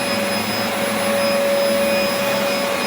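A Dyson DC04 vacuum cleaner runs on cream carpet with its self-adjusting head, giving a loud, constant motor whine over a steady rush of air, close by and uninterrupted.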